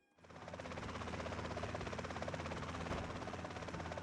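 A helicopter in GTA San Andreas hovers low over city traffic, its steady rotor thrum loud and continuous throughout with a rhythmic chop and no talking.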